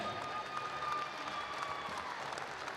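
Clapping from an audience honoring Distinguished Service Award winners at a state boys basketball championship, a steady, fairly faint wash of applause in a gym that holds evenly throughout.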